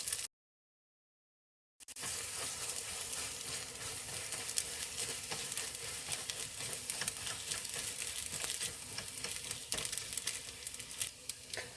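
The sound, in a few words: vegetarian pasta carbonara with cheese stirred in a pan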